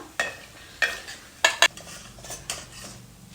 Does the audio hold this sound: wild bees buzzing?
no